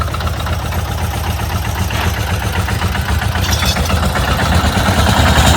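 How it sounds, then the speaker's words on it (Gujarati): A mini tractor engine runs steadily in four-wheel drive, a loud continuous low rumble that swells slightly toward the end, with no talk over it. "હવે 4x4 માં નાખ્યું છે આ ટ્રેક્ટર."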